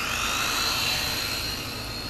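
A Syma X5C-1 quadcopter drone carrying an FPV camera flies close by, its rotors giving a continuous high, buzzing whine that holds steady for the whole brief moment.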